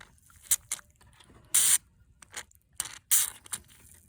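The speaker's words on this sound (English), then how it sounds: "Make sure you gotta get in there somehow with the oil, or WD-40, whatever you're using." Short hissing bursts of WD-40 sprayed onto a rusted strut bolt, a few quick spurts and two longer blasts, close and loud against a quiet workshop background.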